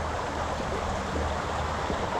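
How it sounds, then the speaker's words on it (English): Steady rushing river water flowing over rocks, heard mid-river on a canoe trip, a continuous broadband wash with no voices. "Listen to the water."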